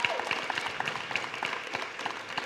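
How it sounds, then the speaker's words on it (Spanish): Clapping rises from an audience at an Anti COP 2024 gathering in Oaxaca, Mexico, a brisk, continuous patter of many hands with scattered sharper claps throughout. "O sea que otro aplauso."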